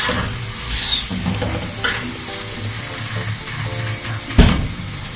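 Aloo paratha frying on a hot pan over the flame, a steady close sizzle with occasional stirring and a sharp clatter of tongs near the end.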